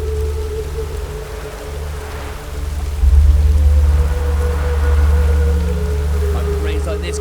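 Steady rain falls in the video game The Witcher 3, a constant broadband patter under low rumbling game ambience, with character voices speaking over it.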